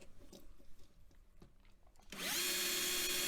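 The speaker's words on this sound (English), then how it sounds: "So I take my rusty, trusty, not so rusty, newish Bosch drill." Faint clicks and handling noises, then a Bosch power drill starts up close and whines steadily as it drills out the rivets on a small die-cast Matchbox Pontiac GP Sports Coupe model car.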